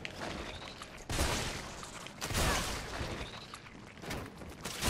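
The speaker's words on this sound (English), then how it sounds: "Shotgun time." Shotgun blasts in the Resident Evil 3 video game: two loud, booming shots about a second apart over a rumbling, tense background, followed by a fainter third burst near the end.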